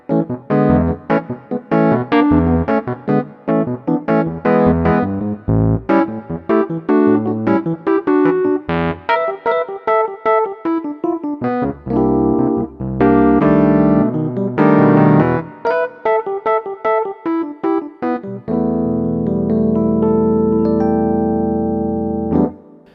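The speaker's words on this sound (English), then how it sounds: "So this is the sound of the Fender Rhodes." Fender Rhodes electric piano preset on a Hammond SK1-88 stage keyboard, played as a run of loud, close chords and melodic phrases, ending on a long sustained low chord, with no talking.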